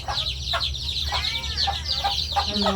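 Chickens cluck repeatedly in a short, steady series of close, moderately loud calls, with a constant low background hum underneath and no talking.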